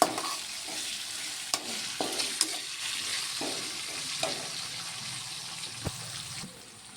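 Coriander, mint and curry leaves being stirred into spinach rice in a pan, with a steady low sizzle and occasional sharp spoon clinks against the metal, close up and without talk.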